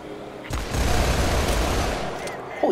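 Rapid bursts of gunfire in Grand Theft Auto V, a dense rattling volley of shots lasting a couple of seconds, loud and close with game ambience behind.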